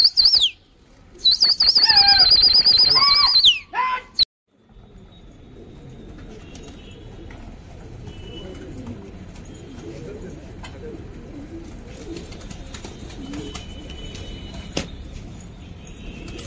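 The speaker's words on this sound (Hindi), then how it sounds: "पपई सिराजी बहुत ज़बरदस्त कबूतर है माशाल्लाह से" Racing pigeons on a rooftop during a pigeon race, heard as a few seconds of loud close bird calls and wing flapping in bursts, then a long stretch of quieter rooftop ambience with faint scattered sounds.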